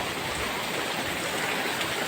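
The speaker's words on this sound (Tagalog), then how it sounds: "Grabe ang ulan dito." Heavy rain pouring down in a continuous broad hiss, evenly dense and close, with no voices over it.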